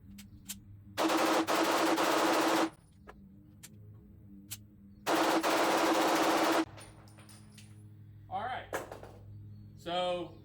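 An HK VP9A1 pistol fires two long, rapid strings of shots that blur into loud, close bursts, each lasting about two seconds and separated by a pause, followed by brief voices and faint handling noises.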